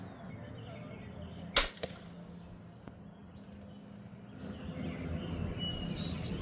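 A LogiX crossbow with vintage-style sound and modern speed of about 435 fps is fired at a target 30 yards away. One sharp, loud snap of the release is followed by a short thwack, set against quiet outdoor ambience.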